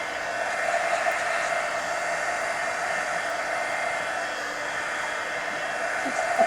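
A hair dryer blows steadily at close range over mixed media art cards, a continuous even whoosh with no talk.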